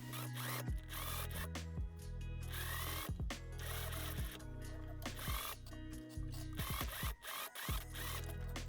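A sewing machine stitches a cup hood onto the front piece of a DIY festival top, its rapid mechanical whir running steadily with brief pauses and restarts, close and fairly loud.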